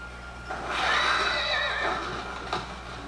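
A horse in the LEGO Lord of the Rings video game neighs once, a loud, drawn-out whinny that rises and fades over a couple of seconds, over a steady background hum, with no speech.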